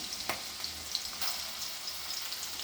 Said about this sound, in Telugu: వెల్లుల్లిపాయలు వేసాను వేగాలి